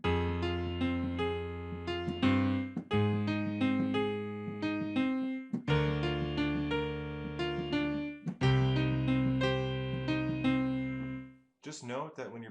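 Piano playing a song with both hands together, sustained chords and melody notes in a steady rhythm, loud and close, pausing briefly between phrases, with a short voice at the very end.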